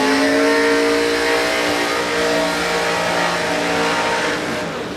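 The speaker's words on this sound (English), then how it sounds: "Yeah, mate, the Dodge Coronet of Tony Ebden, it makes a hell of a lot of power" A nitrous-fed Dodge Coronet drag car blasts down the strip at Warwick Dragway, a loud, sustained roaring engine whose pitch climbs steadily over five seconds and stays close and dominant with no talk.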